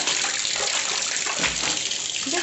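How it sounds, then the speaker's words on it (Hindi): Close sloshing and splashing of clothes being dipped and worked by hand in a tub of soapy water, a continuous wet churning that swells and fades without speech. "साबुन पानी में मैंने अपना ये डुबो दिया है।"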